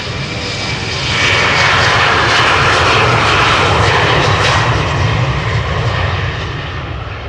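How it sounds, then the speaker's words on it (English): A KLM Embraer 190 jet takes off from Amsterdam Schiphol, its engine roar building within the first second into a loud, close, sustained broadband blast that eases slightly at the end. "So this is KLM flight 1855, Embraer 190 outbound to Düsseldorf."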